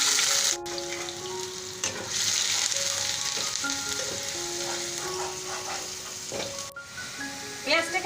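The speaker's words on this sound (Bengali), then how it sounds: "পেঁয়াজটাকে হালকা একটু ভেজে নিয়ে" Onion paste frying in oil in a pan for Bengali-style baingan masala, giving a steady, close sizzle throughout with a few faint tonal sounds drifting in the background.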